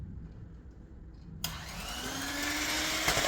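Cupcake batter is stirred after milk is added: a quiet stretch, then a loud motorized whir starts abruptly about midway and steadily rises in pitch as the spinning speeds up, with no talking.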